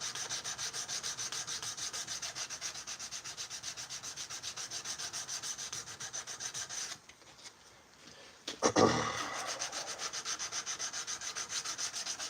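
A forged steel blade is sanded by hand with steady, rhythmic back-and-forth rubbing strokes. The rubbing stops briefly, then resumes after a short clunk, close and clear with no talking.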